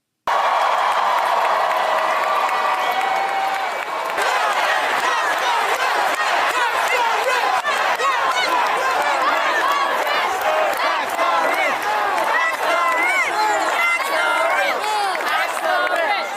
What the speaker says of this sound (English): This is a rally with Mamdani and the New York governor with the crowd chanting,